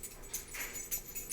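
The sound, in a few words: dog whimpering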